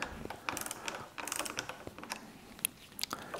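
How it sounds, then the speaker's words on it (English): Hex bit torque wrench tightening the bolts of an oval port mechanical gland on an external fibre joint, a quiet series of irregular ratcheting clicks and small metallic ticks, close by, with no talk. "I've got the hex bit in the torque wrench. So I'm now again going to carry on tightening these up evenly."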